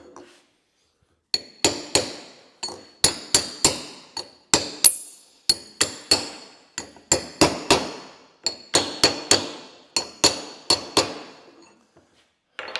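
A bearing seal on a Case 1840/1845C skid steer is driven in with a piece of brass, giving a long run of sharp metallic hammer strikes, close and loud, some single and some in quick pairs, with brief pauses.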